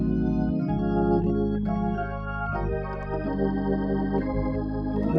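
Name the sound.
Hammond organ playing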